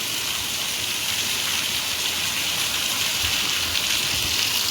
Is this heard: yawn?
no